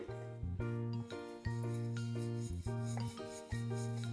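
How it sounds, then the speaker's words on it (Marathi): A rolling pin working sweet curd puri dough on a wooden board, giving rhythmic rubbing strokes roughly once a second, close and fairly quiet, each stroke carrying a tonal, humming squeak. "थोडं पीठ घेते हे बघा असं छान पाटावर लाटून घ्यायची"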